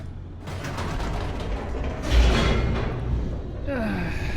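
A large door grinds open in The Stanley Parable, a continuous mechanical rumble and creak that swells midway and fades into a softer whir, with no talk over it.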